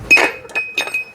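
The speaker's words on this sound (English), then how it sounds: "I got a little more tapping to do here, huh?" A hammer tapping a metal part of a Brunswick A/A2 bowling pinsetter during teardown and repair, a few quick bright clinking strikes, close and loud, with no speech.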